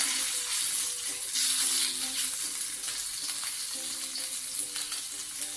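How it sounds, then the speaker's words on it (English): Chilli beef for a Korean-style gochujang stir-fry sizzles hard in a hot pan, a dense continuous crackle with faint scraping of a wooden spatula underneath. "Let's see how sizzly this is"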